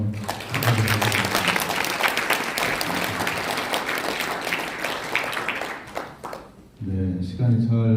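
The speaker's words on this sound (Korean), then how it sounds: "우리 세 분에게 고마운 박수 다시 한번 부탁드리겠습니다." An audience at a Korean civic forum and press conference applauds, dense steady clapping that fades briefly before a speaker's voice returns over the final seconds.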